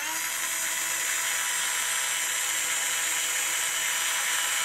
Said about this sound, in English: So we're drilling slow.